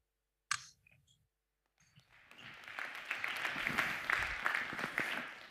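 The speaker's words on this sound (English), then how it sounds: "I hope you heard the applause you got in the room here." An audience in a conference room applauds after a session talk, a few stray clicks first, then a swelling wash of many hands clapping that holds steady for several seconds.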